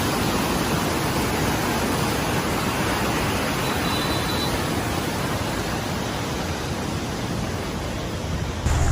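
Fast-flowing water of the Ganga canal rushes across the Solani Aqueduct near Roorkee, a dense, loud, continuous roar of moving water with no voices, steady from start to finish.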